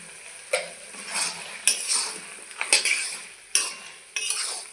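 Banana flower curry with fish head, dusted with garam masala, mixed in a pan: repeated close scraping strokes of a spoon against metal, each starting with a clink, over a faint sizzle.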